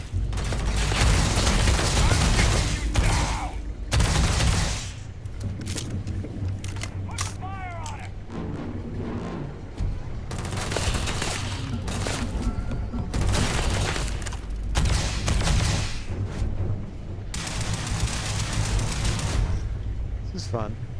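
Laser rifle shots in the video game Starfield, a series of loud bursts and electronic zaps fired in spaced volleys alongside game sound effects, with someone talking between and over the firing.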